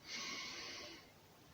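A person draws a deep breath in during an exercise routine, one loud breathy inhale that fades over about a second and is heard alone.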